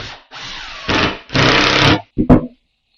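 A power driver sends screws into a temporary workbench top: a short burst, then two longer whirring runs that bog down as each screw seats, and a brief final stutter, loud and close.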